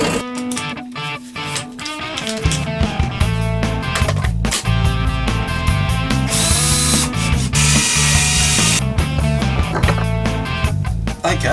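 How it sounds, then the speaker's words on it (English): A power drill whines and ratchets at close range, boring a hole and driving screws into a modified Wagtail angle arm, in repeated loud bursts with brief pauses between runs. "drill a hole and put a screw in there, both sides, to secure it"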